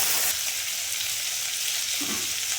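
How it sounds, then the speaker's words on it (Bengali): Prawns frying in hot oil in a pan give a loud, steady sizzle throughout, with a brief stir near the end and no talking. "তার জন্য চিংড়ি মাছ ভেজে নিচ্ছি"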